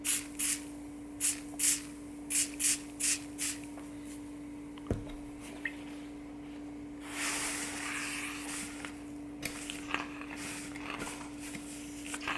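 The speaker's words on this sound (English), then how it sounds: "Can I give it some strength with some spray starch?" Spray starch misted onto a casebound book under repair: a rapid series of short, sharp aerosol hisses, then quieter handling noises over a steady low background hum.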